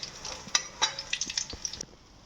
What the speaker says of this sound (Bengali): আমি ফ্রিজ থেকে বার করে 3-4 ঘন্টা পর এগুলো নিজের মতো করে ভাজতে শুরু করেছি